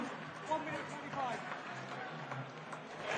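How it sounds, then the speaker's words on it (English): A boxing crowd at a live fight night applauds the defeated fighter, a soft steady wash of clapping under a ring announcer's voice. "a round of applause for the gallant Ryan Haycock"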